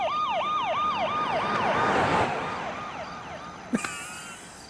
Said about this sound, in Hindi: अबे बैकग्राउंड म्यूजिक नहीं है, पुलिस की सायरन है।